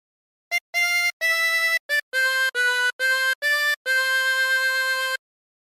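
Harmonica playing a phrase of Home on the Range, about nine clear reedy notes, short and separated at first, then a longer held final note, solo and close with no talk.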